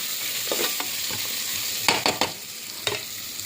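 Carrots, beans and green chillies frying in a pan, continuous sizzle broken by several scraping strokes of a spoon, close and clear.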